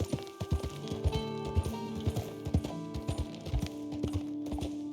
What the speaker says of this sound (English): While riding, pat your horse for more bonding and keep him brushed well.